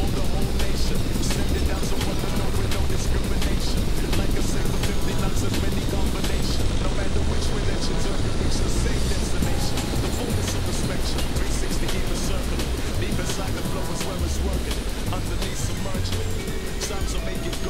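Helicopter flying in Microsoft Flight Simulator X during a sling-load hauling task, a steady loud rotor and engine drone running throughout with dense broadband roar and continuous low thumping.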